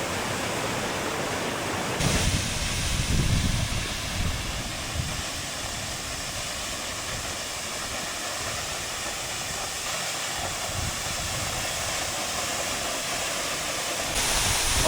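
A waterfall on the Mount Rinjani ritual trail roars in a steady, dense wash of broadband noise that is loud and near and holds unbroken throughout, with no voices over it.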